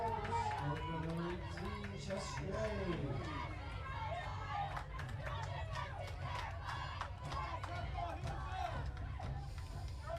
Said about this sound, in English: The crowd getting vocal.